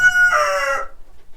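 A chicken in a farm flock gives a short, loud, close crow with clucky edges, a single call lasting under a second before falling quiet.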